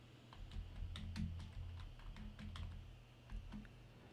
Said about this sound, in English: I'm typing this in.